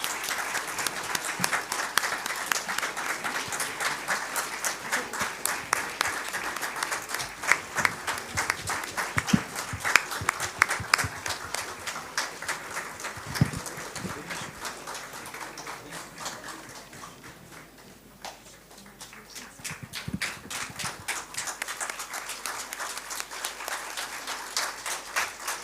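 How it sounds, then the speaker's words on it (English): Sustained audience applause at an engineering award ceremony finale, many hands clapping steadily and fairly close, dipping briefly near the end before picking back up. "Can we please have the applause going on?"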